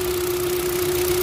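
A car engine runs with an ignition misfire, giving a steady close-up drone with a constant hum throughout a brief stretch.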